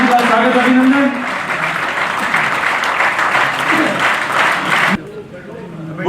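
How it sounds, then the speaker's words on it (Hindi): Loud crowd applause welcoming a political leader at a BJP state working committee meeting in Jaipur, dense clapping that cuts off sharply near the end, with a voice over the start. "जोरदार तालियों के साथ आदरणीय नड्डा जी का स्वागत, अभिनंदन"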